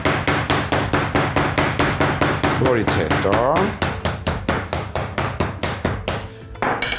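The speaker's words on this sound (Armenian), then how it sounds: "ծեծում ենք հետը մուրճով, որպեսզի մսի հյուսվածքները թուլանան," Raw chicken breast is pounded with a meat mallet in a kitchen: a steady run of loud, close, sharp thuds about three per second, continuing throughout, with a brief voice over the blows.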